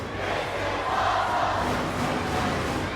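A loud, steady roar from the crowd at a Ring of Honor pro wrestling match between El Generico and Kevin Steen fills the clip without a break, after chair shots and a table being set up.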